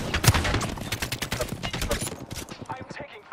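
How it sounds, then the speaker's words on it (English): Rapid bursts of gunfire in Apex Legends crackle in dense volleys, sharp cracks stacking into an automatic rattle that thins out toward the end, close and loud with a voice briefly under the shooting. "I'm taking fire"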